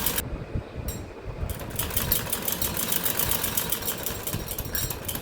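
Sewing machine stitching a salwar, a continuous close mechanical whir with fast rapid pulsing that keeps running steadily throughout.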